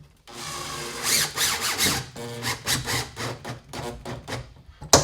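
A power drill drives screws into a bathtub flange, giving a series of short whirring, squealing bursts of rising and falling pitch, close and loud, with brief pauses between pulses.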